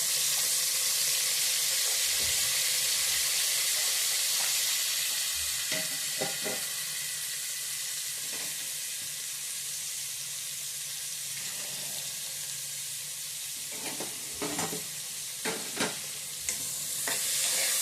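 Onion and green chillies fry in oil inside a pressure cooker, a steady broad sizzle running throughout with occasional clinks and scrapes of stirring near the end.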